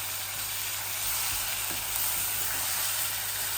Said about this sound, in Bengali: এই ডাইলের পেঁয়াজ রসুনগুলো আর একটু লাল হয়ে যাক।